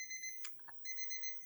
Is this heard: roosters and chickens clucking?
no